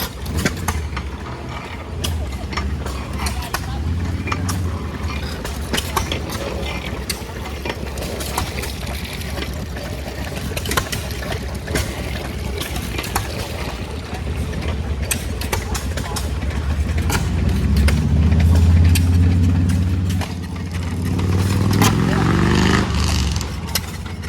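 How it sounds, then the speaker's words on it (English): Antique gas engines at an engine and tractor show run in a steady, rapid low chugging idle, with other engines and a deeper rumble swelling nearby, while a person talks over them. "I love all these old engines."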